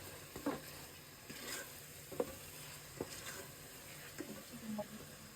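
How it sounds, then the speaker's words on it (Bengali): Yakhni biryani masala stirred in a pan, with faint, sparse scrapes and soft taps of a spoon against the metal over a quiet, low hiss. "এবার এটা আমি সুন্দর করে নেড়ে চেড়ে নিচ্ছি"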